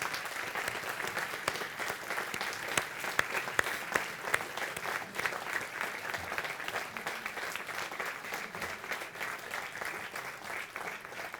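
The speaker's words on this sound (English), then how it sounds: "Let's give this group a huge amount of applause." A conference audience applauds sponsors gathered on stage at an annual summit opening, with steady, dense clapping that holds evenly for the whole stretch, sounding moderately distant like a large hall.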